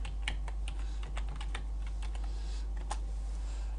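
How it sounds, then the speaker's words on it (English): A password typed on a computer keyboard at a PC's first logon after Sysprep setup: a quick run of crisp, close key clicks in uneven bursts over a steady low hum, with no talking. "So enter password that you just created."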